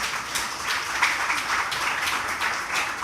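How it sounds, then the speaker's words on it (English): Audience applause for a poet at a literary spotlight event, steady dense clapping sustained throughout without a break, moderately loud, with no voices over it. "please give her another round of applause"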